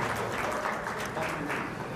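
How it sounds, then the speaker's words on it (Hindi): Audience applause welcoming guests at a spiritual gathering, a soft continuous wash of clapping heard from a distance with faint voices mixed in. "अगर आप चाहें तो आप भी स्वागत कर सकते हैं, लेकिन तालियों के सहारे आपको अच्छा लगेगा जी।"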